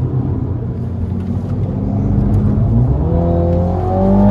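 A Mini GP3 laps the Zolder circuit, its engine note droning steadily from inside the car before the revs climb and shift pitch toward the end as the gearbox downshifts.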